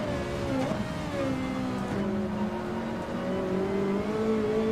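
A Ferrari race car engine in Gran Turismo 7 at the Nürburgring, droning loudly and steadily at high revs with smooth gear-change dips and rising pitch sweeps, alone without talk.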